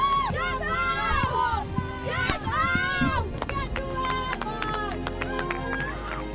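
Spectators from both teams cheer, shout and clap on a beach at an ocean kayaking challenge as a kayaker heads back to shore, with excited voices, whistles and overlapping talk forming a loud, busy crowd.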